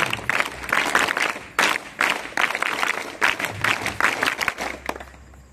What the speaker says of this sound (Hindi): आप सभी जोरदार तालियों से एक बार बाप जी के लिए ताली बजाएं